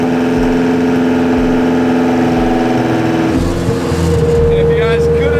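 A heavily built Honda engine with a knocking connecting rod runs loud and close throughout, a steady rough drone with a pulsing low beat and no break.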